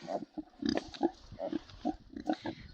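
A mother pig with her single piglet grunts in short, repeated bursts, about a dozen close, moderately loud snorts and oinks in an uneven rhythm with no talk.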